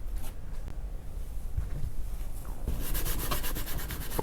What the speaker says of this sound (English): I'm still gonna scuff it up with a maroon Scotch spray. Can't go wrong with sanding.